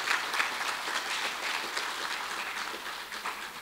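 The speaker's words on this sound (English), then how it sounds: "I want to put your hands together and give a round of applause for Troy Augustine." An audience at a regional coconut meeting and training in Grenada claps steadily, a dense spread of hand claps that holds at an even level for several seconds with no speech over it.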